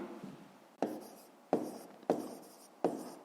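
A pen scratches across paper while a fifth-grade math exercise is worked out, in four distinct, crisp strokes, each a quick burst fading away, heard up close with no talking.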